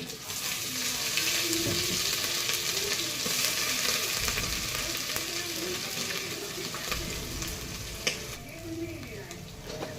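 A ground spice paste frying in oil with cumin, asafoetida and peanuts for a Khandeshi masala khichdi, producing a loud continuous sizzle with occasional stirring scrapes and clinks, no voices.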